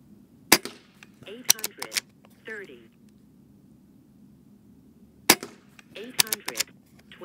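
A Gamo Arrow air rifle fires pellets over a chronograph at a 20-yard range, with sharp isolated cracks in two bursts among quiet gaps, and people talking briefly between the shots.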